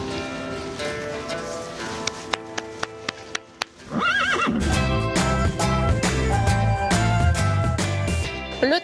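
A horse being ridden at a trot during a schooling session gives rhythmic clip-clop hoofbeats that grow louder after a brief quiet stretch, with a whinny rising partway through, all close and clear.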